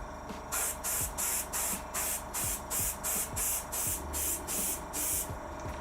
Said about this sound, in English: This is one of the smallest airbrush needles you can get for airbrushes as well. I'm not using high pressure.